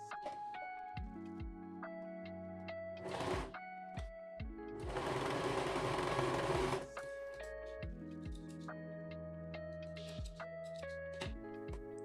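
A home sewing machine stitches the side seams of a beginner's blouse with a pleated sleeve, humming steadily in close, repeated runs broken by short stops and a louder whirring stretch partway through, without speech.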